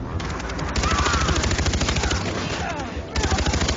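Rapid automatic rifle fire in Far Cry 3, aimed at a red explosive barrel that never blows up, a loud continuous rattle of evenly spaced shots close by with no explosion.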